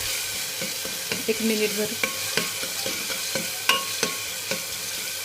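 Ginger-garlic paste fries in a pan with a bright, constant sizzle and regular clicks of a spoon stirring. A voice speaks briefly partway through.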